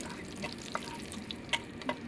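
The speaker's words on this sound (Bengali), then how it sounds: "তো এবারে শুকনো লঙ্কাটাও আমি ভেজে নিচ্ছি" Dried red chillies and nigella seeds fry in oil with a faint, steady sizzle, broken by a few light pops and utensil clicks, heard close and alone.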